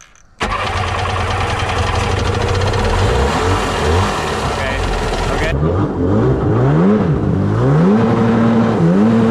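A small engine on an old abandoned jet ski runs loud and close, first revving hard and steady, then wavering in rising and falling pitch sweeps as the throttle is worked.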